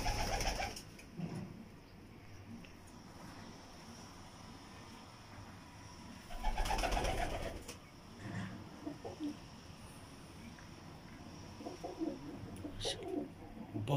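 Soft pigeon cooing in short bursts amid quiet outdoor ambience, with faint rustling between calls.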